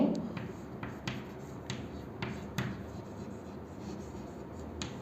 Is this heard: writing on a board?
yes